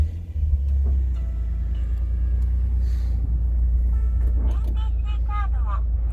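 A 1995 Toyota Supra JZA80 RZ-S with a six-speed manual fires up early on, then holds a deep, steady idle rumble, with someone briefly talking near the end.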